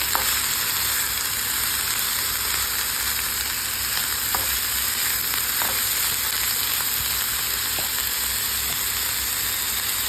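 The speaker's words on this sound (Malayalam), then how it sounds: "എന്നിട്ട് തന്നെ ജസ്റ്റ് ഒന്ന് ഇളക്കി കൊടുക്കാം." Ivy gourd thoran with rock salt frying in a pan as it is stirred, a steady loud sizzle and hiss throughout with faint scraping clicks from the spoon.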